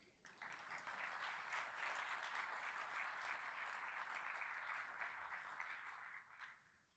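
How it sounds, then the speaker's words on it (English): An audience at an alumni awards ceremony gives a sustained round of applause, steady and full for several seconds before tapering off near the end, heard at some distance in a large room. "let's give Dr. Tarhurley one more round of applause"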